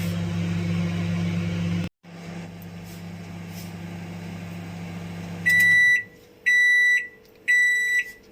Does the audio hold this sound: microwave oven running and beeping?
yes